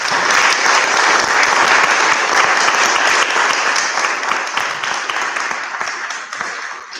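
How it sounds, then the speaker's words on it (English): A hall audience at a local election hustings in a Methodist church applauds the candidates, a thick, sustained burst of clapping that stays loud before gradually thinning out. "Perhaps we'll give all the candidates a round of applause."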